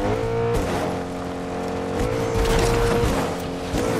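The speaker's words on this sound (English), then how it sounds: "I'm using my car, I'm driving." Steady car engine hum from a vehicle driven in Fortnite, with low tonal drone and some brief shifts in pitch, continuous and fairly loud with no talking.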